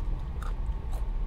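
Crunchy fries from Wendy's, left sitting in the sun, are chewed up close, with a couple of crisp bites standing out over the steady soft chewing.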